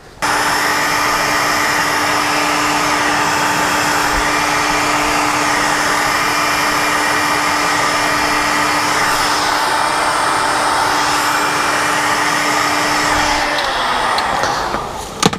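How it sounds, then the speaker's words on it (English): Heat gun shrinking heat-shrink tubing over spliced wires while a VW Golf MK7 rear camera kit is fitted: a loud, steady whirring blower roar with a faint tonal whine, running continuously before cutting off near the end. "So we're now ready to heat shrink."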